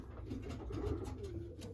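Pigeons coo softly and continuously in a racing pigeon loft, a low murmuring drone of several birds close by with no talk.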